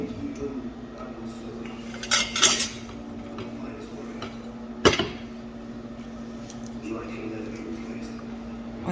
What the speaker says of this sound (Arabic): هلا نسكبها بقى بطبق التقديم